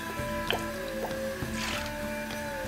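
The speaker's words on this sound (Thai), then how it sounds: "แล้วก็ตามด้วยน้ำปลานะคะ" Fish sauce is poured into a pot of boiling curry, giving soft liquid squishes and drips over a steady bubbling simmer and a faint background hum, close by and with no talking.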